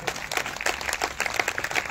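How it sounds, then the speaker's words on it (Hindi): A church congregation at a Sunday meeting claps loudly together, a dense, steady burst of many hands applauding throughout the short moment. "अगर आए तो जोरदार तालियां बजाएंगे।"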